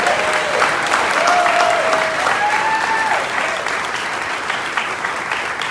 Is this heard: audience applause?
yes